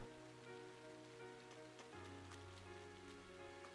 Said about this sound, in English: Oh, rainy day.